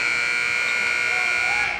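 A loud basketball game clock buzzer sounds at halftime in a high school gym, one sustained electronic tone lasting nearly two seconds.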